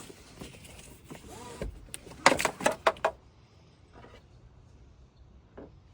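A car seat belt that won't retract properly is pulled out and let go. The webbing zips and rattles close by, followed by a few clicks and knocks as it winds back, then near quiet.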